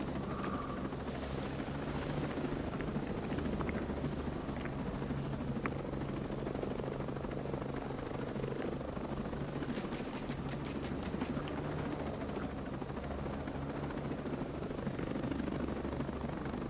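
A steady helicopter rotor drone with rhythmic chopping in the video game Ghost Recon, continuous and fairly loud throughout, with faint rattling ambience and no talk.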